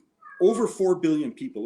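A pet cat meows in the background while someone talks over it, its short cries mixing with his speech at close range indoors.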